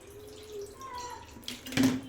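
Ice-cold water splashes and pours briefly near the microphone, rising to a louder gush at the end, with a faint tone humming underneath.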